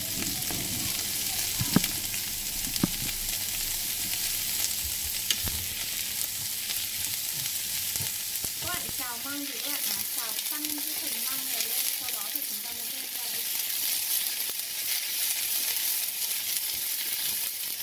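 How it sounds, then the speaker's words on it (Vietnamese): Bamboo shoots stir-fry with chopped duck meat in a hot pan, giving a steady, close, continuous sizzle with occasional clinks and scrapes of stirring, with no one speaking. "Sau khi mà các bạn chặt thịt xong rồi thì các bạn sẽ cho măng vào, các bạn xào chín cho mình nhé."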